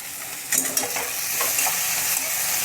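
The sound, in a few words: tomatoes being stir-fried on high flame in a kadhai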